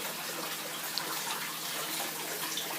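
Aquarium water from a freshwater tank being siphoned through a vacuum tube into a 5-gallon bucket, a steady broadband rushing and gushing flow with no pauses or talking.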